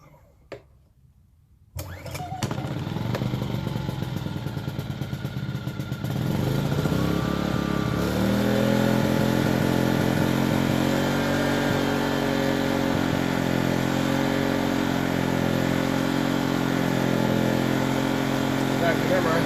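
Enkeeo 2300 watt portable inverter generator pulled to start after a quiet moment, catching and settling into a loud, steady running drone that rises slightly partway through, close by.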